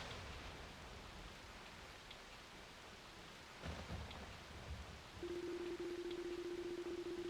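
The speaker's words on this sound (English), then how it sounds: "only the sound of falling rain and constant thunderclaps could be heard echoing through the dark" Rain and thunder in the video game Ys: Memories of Celceta: a steady wash of falling rain with low rumbling thunder rolling underneath, a heavier swell near the middle, then a sustained tone joining the rain toward the end.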